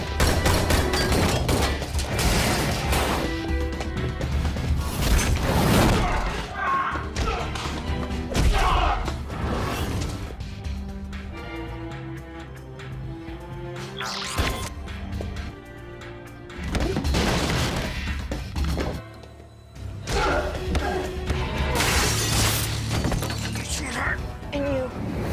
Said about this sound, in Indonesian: yang mereka dapatkan hanyalah Chen, sehingga terjadi duel baku tembak di saat itu juga.